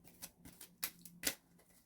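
A deck of cards for the Marvel Champions card game is shuffled by hand, giving faint, close riffles and a few sharper snaps spaced out over a couple of seconds, with no talk.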